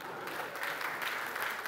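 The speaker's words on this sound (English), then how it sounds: "Clap for him, not for me at least." Audience clapping during a motivational keynote talk, a steady, fairly faint wash of applause that holds for under two seconds with no voices over it.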